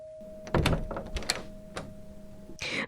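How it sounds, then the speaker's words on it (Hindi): In an audio drama, a door is opened after the doorbell rings, with a sharp latch clunk, rattling handle clicks and a thump, over a faint steady electronic hum, ending with a brief scraping swish. "दरवाजा खोलते ही सिद्धार्थ ने देखा कि एक बेहद खूबसूरत सी लड़की वहां खड़ी थी"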